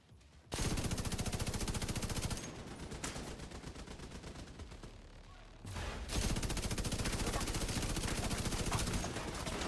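Turrets in Division 2 fire sustained rapid bursts of automatic gunfire, dense and loud, pausing briefly before resuming with heavier impacts.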